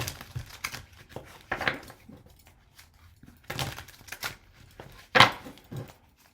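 A tarot deck is shuffled by hand in short bursts of riffling and sliding cards, with soft taps and rustles between them and one sharper slap near the end, close and quiet with no talk.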